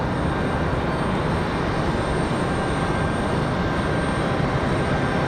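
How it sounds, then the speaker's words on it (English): At Raleigh-Durham airport at night, a FedEx ATR turboprop departs with a constant, dense engine roar and a faint high whine, unbroken and steady across the few seconds, with no talking. "There goes the FedEx ATR"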